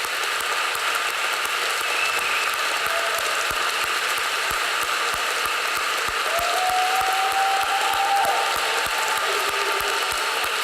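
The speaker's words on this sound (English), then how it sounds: "I want us to applaud the young people who are here tonight who are working to make a difference." An audience at an evening gathering applauds in a steady, sustained wash of clapping that runs unbroken for about ten seconds, with a brief whistle rising above it midway.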